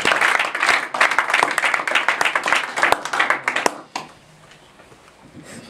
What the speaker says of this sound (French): Bon, acclamons encore pour le Seigneur.